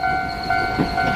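An animated train pulls up outside a house, sounding a sustained multi-tone horn with a faint rumble of rolling wheels beneath it, brief and fairly loud.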